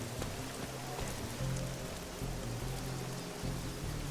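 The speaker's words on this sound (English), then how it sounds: "It's raining, but he doesn't mind." Steady rain patters continuously on surfaces in the video game Midnight Suns, a dense, even hiss with no voices.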